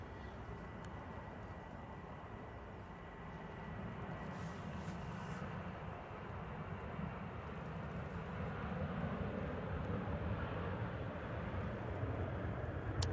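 Airliner departing Manchester Airport for Berlin, a distant broad jet-engine roar that builds gradually and stays steady throughout, with no voices.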